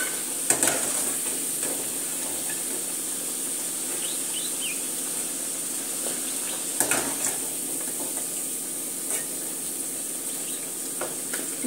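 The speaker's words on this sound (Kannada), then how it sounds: "ಈಗ ಇದನ್ನು ತೆಗೆದು ಒಂದು ಬೌಲ್ಗೆ ಹಾಕ್ಕೊತಾ ಇದ್ದೀನಿ" Fried taro root scooped from a pan into a bowl, with steady frying sizzle throughout and a few sharp metal scraping and clinking sounds from the spoon, close and fairly loud.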